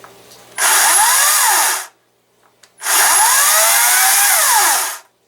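A Ryobi 40V brushless 14-inch battery chainsaw motor revs loudly in two long bursts, each a couple of seconds, separated by a short quiet pause.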